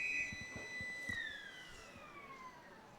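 A football ground siren sounds at an Australian rules match between Redan and Melton to start the second quarter, a long distant wail that slowly falls in pitch and fades out across the ground.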